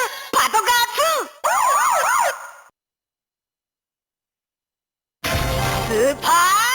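A BoonBoom Changer toy's Super BoonBoom Patrol Car 2 plays an electronic police siren: rising and falling wails, a break of silence, then a bright synthesized siren burst with a low tone beneath, loud and close.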